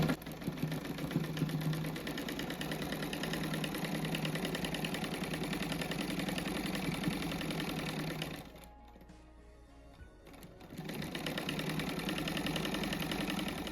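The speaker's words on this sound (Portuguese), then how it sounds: "Aqui fazer bem certinho o pé de máquina, que depois eu vou abrir essa costura do meio também." Domestic sewing machine stitching a patchwork rug seam, a steady continuous whir that runs close and loud, pauses for about two seconds, then resumes.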